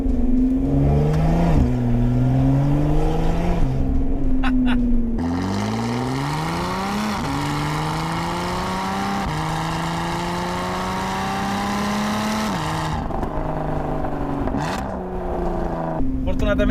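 Lotus Evora 400 engine and exhaust with the exhaust valve open while driving, a loud, steady, deep drone rising and falling in pitch through gear changes, heard from inside the car with a voice talking over it.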